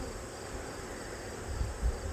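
Honey bees in a fall hive crowded with bees and brood, trying to swarm, give a steady close insect hum with a few louder low thumps near the end.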